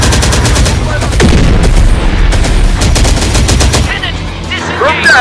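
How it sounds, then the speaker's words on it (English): Heavy gunfire in the video game Terminator: Dark Fate – Defiance, loud rapid machine-gun bursts and overlapping shots in a sustained fusillade, with shouted voices briefly audible amid the firing. "We're taking fire!"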